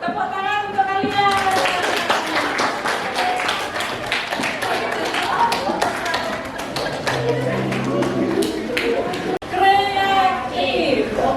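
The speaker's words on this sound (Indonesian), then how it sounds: "Tepuk tangan untuk kalian." Children in a classroom clapping together in quick rhythmic bursts, mixed with lively kid voices and chatter, with a brief pause near the end before the noise resumes.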